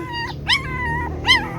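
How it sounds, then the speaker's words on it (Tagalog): Puppies give three short, high, whining yelps in quick succession, close to the listener, with a steady low hum underneath and no talking. "Sino tumatahol?"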